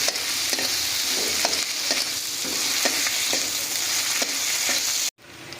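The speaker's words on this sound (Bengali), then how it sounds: "এবার মশলাটাকে আমরা খুব ভালোভাবে ভাজা করে নিচ্ছি।" Ginger and garlic spice paste fries in a pan with a steady close sizzle, punctuated by regular stirring scrapes and taps of a utensil, then a brief cut near the end.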